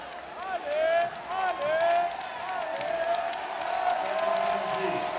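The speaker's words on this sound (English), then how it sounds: "You hear the crowd trying to get behind Diallo here." A basketball arena crowd cheers and whistles during a EuroCup Women semi-final, urging on a player at the free-throw line; the roar swells and dips steadily while a commentator talks over it.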